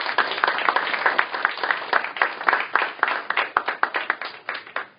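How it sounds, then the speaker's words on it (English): An audience at a music house applauds itself before a concert, with dense, close clapping that thins toward the end into fewer, distinct individual claps. "So give yourself a big round of applause, please."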